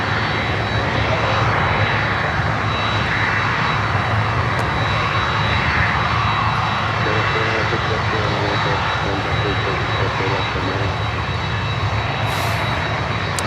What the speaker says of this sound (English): Avianca Cargo, a 330-200 passenger to freighter conversion coming in.